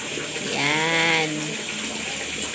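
Water sloshing and splashing as laundry is rinsed by hand in a basin, with a short swirling, bubbling burst partway through over a steady wet background.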